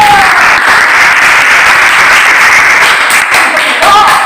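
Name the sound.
audience applauding group one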